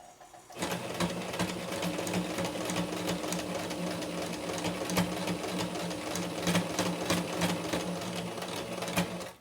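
A sewing machine stitches the folded hem of a dish towel, its needle chattering in a fast, even rhythm up close that starts after a brief pause and runs steadily to the end.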